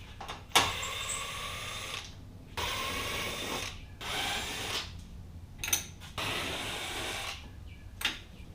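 A power drill backs out 7 mm bolts on a Chevy Colorado ZR2 during a headlight swap, running in several close, steady whirring bursts separated by short pauses and small clicks.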